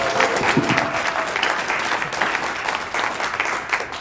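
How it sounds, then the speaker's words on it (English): A conference audience at a closing keynote gives steady, continuous applause, a full room clapping evenly from start to finish. "Round of applause for Richard Notgard."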